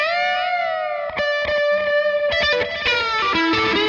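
Distorted electric guitar notes bending upward, sustained and loud, with several picked attacks and wide string bends sliding about two whole steps above the starting note.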